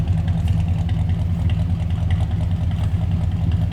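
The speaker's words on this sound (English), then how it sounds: "Got a little rumble coming out of that big V8 underneath the hood." The big V8 of a 1969 Cadillac Coupe DeVille idles with a steady, low, close rumble that stays even throughout.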